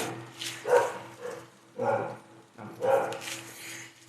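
A dog barks three times in spaced bursts over a low steady hum, fairly close and moderately loud, with no talk during the barks.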